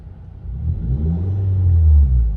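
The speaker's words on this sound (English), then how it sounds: "the car is idling perfectly right now at 750" A high-mileage Nissan Altima idles smoothly at about 750 rpm with the air conditioning running, giving a steady low engine rumble close by that swells slightly toward the end, with no voices.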